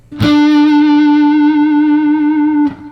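A sustained, heavily distorted guitar note through an MXR Timmy overdrive pedal with bass and treble turned up rings out with a bright, buzzy, full-bodied tone, held steadily for over two seconds before cutting off.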